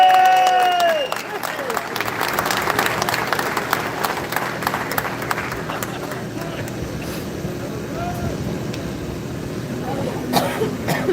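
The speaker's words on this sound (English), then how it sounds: "Give him a full applause." Outdoor crowd applause at a street gathering on Custom House Quay in Dublin city centre, a loud burst of clapping and cheering that settles into steady clapping with crowd noise, coughs and voices mixed in.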